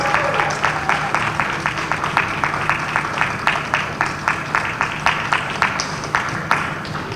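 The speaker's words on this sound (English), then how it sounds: "I would love for you to all make a round of applause for Genesis" Audience applause for a startup pitch winner at a blockchain and gaming conference, a loud crowd clapping with some rhythmic, near-unison beats running throughout.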